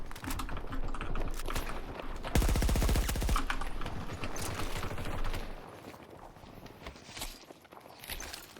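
A burst of Val rifle gunfire in Battlefield 2042, a rapid rattle of shots lasting about a second amid busy game noise and footsteps, with no talk.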